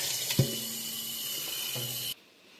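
Running tap water washes out a homemade humid hide for a leopard gecko, a steady close rush of flowing water with a brief knock of handling partway through, cutting off sharply near the end.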